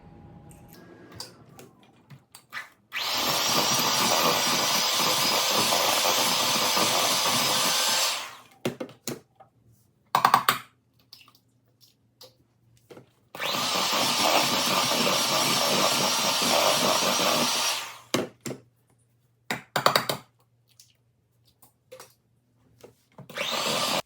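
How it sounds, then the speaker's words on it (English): An electric mixer beats eggs into sugar and butter for a sweet potato casserole, running in two steady whirring bursts of about five seconds each, separated by a pause with light clinks and knocks. "you're gonna wanna beat everything together after one egg"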